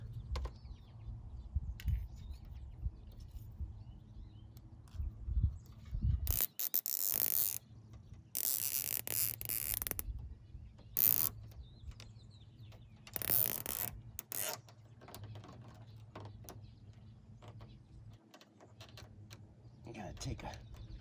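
Ratcheting clicks come in short bursts as 36-inch cable ties are pulled tight around the retractable awning of a Winnebago Travato RV, mixed with handling noise and some talk.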